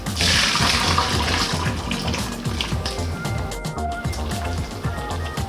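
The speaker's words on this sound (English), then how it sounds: "When your pasta is ready, drain it." Boiled pasta water is drained, pouring and splashing in a loud, continuous rush that holds steady throughout, with no one speaking.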